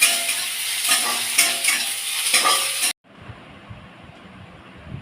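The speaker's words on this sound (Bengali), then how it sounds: "মশলাটা কষে নেওয়ার পরে আমি ডালটা ফোড়ন দেবো" Boiled chickpea dal is stirred into spices frying in a pan, giving a loud, close, hissing sizzle with rhythmic scraping strokes. It cuts off abruptly to a quiet room background after about three seconds.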